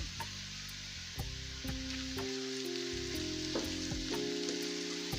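Cinnamon sticks, cardamom pods and bay leaves fry in hot oil in a pan for an egg korma, a steady loud sizzle with stirring scrapes and clinks throughout.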